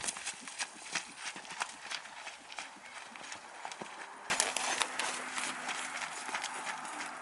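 A horse's hooves beat in a rhythmic three-beat canter on an arena surface during a dressage lesson, moderately close, with a louder stretch toward the end and a little faint talk.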